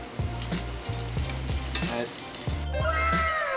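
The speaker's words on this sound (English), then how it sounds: "you should hear that sizzle" Fish shallow frying in hot oil in a pan, a loud steady sizzle with repeated stirring or scraping strokes, near and continuous, and a man's brief word over it.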